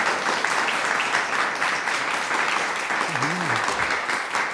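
Continuous applause from a group gathered at an artist's school visit, loud and even from start to finish, with voices faintly mixed in.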